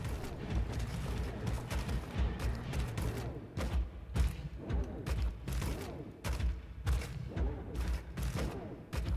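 Repeated bursts of gunfire from the video game Wolfenstein The Old Blood, loud and dense, with rapid shots and heavy booms overlapping in a chaotic firefight through most of the stretch.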